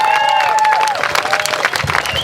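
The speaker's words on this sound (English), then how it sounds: "All right, big round of applause" An outdoor crowd at a river rally to save the St. Lucie River and Martin County wildlife breaks into dense, steady applause with cheering and a few whistles, loud and sustained throughout.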